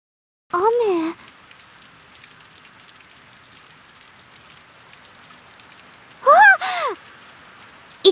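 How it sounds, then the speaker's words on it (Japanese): Heavy rain pours steadily onto surfaces outdoors near a dormitory, a continuous broadband hiss through the whole stretch, with two short bursts of voices talking over it at the start and near the end. "わー、すごい雨ですね。"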